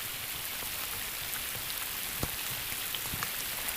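Spring rain falls steadily on Hamburger Lake, a soft, even hiss of drops on water with a few louder individual drips close by, and no talking.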